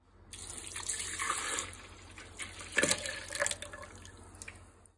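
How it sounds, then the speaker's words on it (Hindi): Milk poured into a juice drink being mixed in a home kitchen, a steady liquid stream with splashing and a few drips, moderately close and heard alone without talk. "हम बना रहे हैं एक नया किस्म का जूस, जिसमें अभी मैं डालूंगी दूध"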